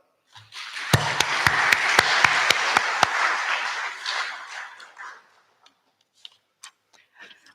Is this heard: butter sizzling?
no